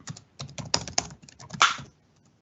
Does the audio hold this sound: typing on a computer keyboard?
yes